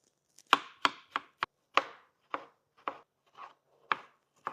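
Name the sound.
chopping tomatoes with a knife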